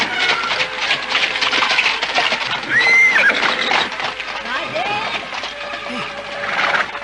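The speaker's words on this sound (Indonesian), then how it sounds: "tiba-tiba melintaslah sebuah gerobak kereta yang ditarik seekor kuda" A horse whinnies loudly nearby as a horse-drawn cart passes, its hooves clopping, with a voice speaking over the scene.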